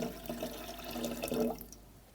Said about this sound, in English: So let me just put the water in.